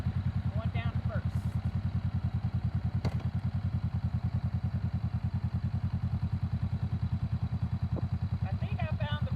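A motorcycle idles steadily with a loud, even, rhythmic engine thump throughout while the clutch is pulled in and the bike is shifted down into first gear, with a couple of light clicks.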